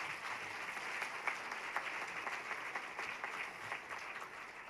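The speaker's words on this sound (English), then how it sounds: "So let's give her another round of applause." Applause from an audience at a human relations awards event honoring a police chief, quiet and distant but steady throughout, with a few sharper claps standing out.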